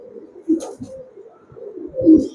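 Pakistani highflyer Teddy pigeons give two short, soft coos, close and low-pitched, with a quiet pause between them.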